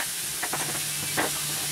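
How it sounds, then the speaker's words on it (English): Egg roll filling sizzles in a saute pan, a steady broad hiss with a few soft stirring scrapes, close and alone. "now I'm going to throw all this rest of the stuff into the saute pan"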